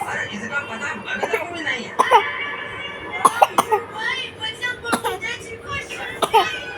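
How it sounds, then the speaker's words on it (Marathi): A cough bursts out amid a shopping trip at a DMart store, with a few sharp, brief hacks scattered among nearby voices and light laughter, fairly close to the recorder. "हाँ हाँ खोकला आला"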